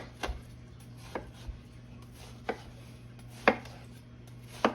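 A knife cuts down through a watermelon on a board, a series of about six sharp, separate chops spaced unevenly, close and crisp over a quiet background hum.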